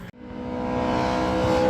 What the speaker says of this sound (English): So there's a Mini Cooper absolutely roaring by.